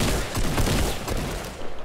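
Shotgun fire in the Fortnite battle royale game, with loud rapid blasts and crackling gunfire packed densely together throughout, continuous and close with no clear gaps.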